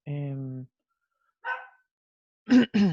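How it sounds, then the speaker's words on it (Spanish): Small pet dogs barking indoors during a lesson: one long drawn-out bark, a short yip, then two quick sharp barks close by, with silence between. "están mis perritos ladrando"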